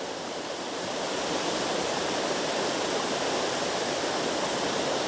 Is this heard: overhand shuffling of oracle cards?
no